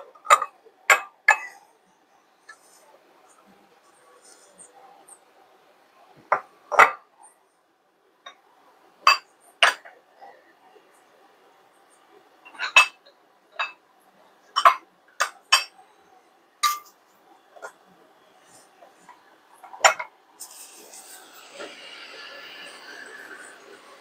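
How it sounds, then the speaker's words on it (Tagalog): Plates and dishes clatter and clink in a home kitchen while beef with bamboo shoots cooks, a series of sharp, separate ceramic knocks at irregular intervals, with a soft hiss of frying rising near the end. "Para akong nag-New Year na, kasi ang ingay ng aking mga plato."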